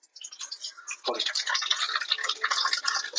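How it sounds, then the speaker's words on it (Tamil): Mustard seeds dropped into hot oil for tempering while making pirandai pickle, a soft thump followed by a steady dense crackling and popping sizzle, close and continuous. "இப்ப அதுக்கு தேவையான கடுகு போட்டுக்கலாம்."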